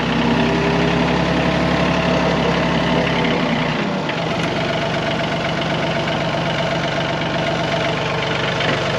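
A vehicle engine drones loudly and steadily while driving over a muddy spot, its low rumble shifting partway through and then running on evenly with no talking.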